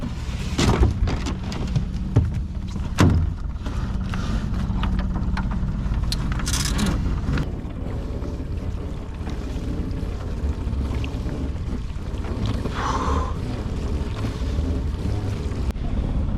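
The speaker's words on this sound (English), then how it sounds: "we're gonna motor over to the next boat" A motorboat engine drones steadily on open water while prawn fishing, with wind buffeting the microphone and a few knocks and clatters near the start.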